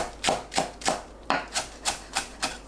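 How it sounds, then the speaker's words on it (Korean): Green onion chopped with a knife on a cutting board, eight crisp, evenly spaced knife strikes in a brisk steady rhythm, close and clear with no other sound. "파를 작게 썰어주세요"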